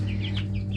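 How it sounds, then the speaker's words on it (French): Chicks in a garden pen give several quick, high, repeated chirps close by over a low steady hum, all within a short moment. "Pendant que je fais ça, je vais vous mettre avec les poussins"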